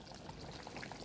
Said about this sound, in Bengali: এবারে দেখুন ঝোলটা কেমন ফুটছে।